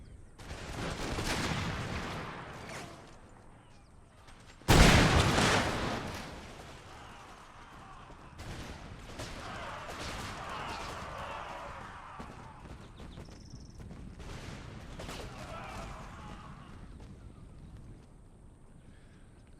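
Musket volleys crack across an Empire: Total War battlefield, one loud close fusillade near the five-second mark, then scattered ragged gunfire, hoof clatter and rumbling battle ambience continuing at a lower level.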